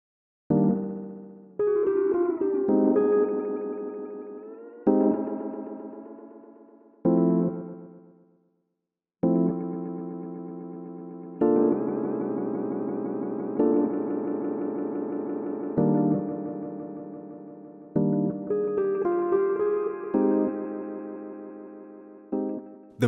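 Rhodes V8 electric piano played through a very short delay that imitates a spring reverb, separate chords and notes ringing with a metallic, springy tail and pauses between phrases.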